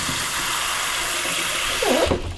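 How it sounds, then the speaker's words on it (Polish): Cold tap water runs in a steady rush over boiled eggs in a kitchen, with a brief louder splash near the end; nobody speaks. "od razu zalewamy zimną wodą, żeby już się schłodziły"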